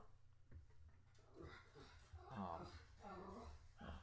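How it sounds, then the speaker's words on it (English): A dog makes low, strained growling and whimpering yips at close range, the sounds rising and falling over a few seconds. "Hey, stop barking, you."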